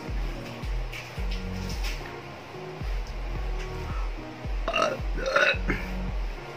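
A series of loud, deep burps in quick succession from a person eating Thai food in the Philippines, repeating with a steady rhythm and a few higher, rougher belches near the end.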